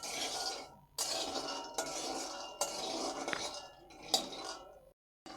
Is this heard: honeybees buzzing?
no